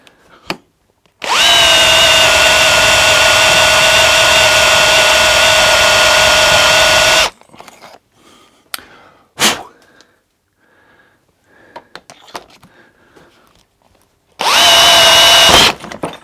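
A power drill bores through a bolt on a Sportster motorcycle fork in two loud, steady bursts: a long run of about six seconds, then a short final spurt after quiet clicks and handling noises.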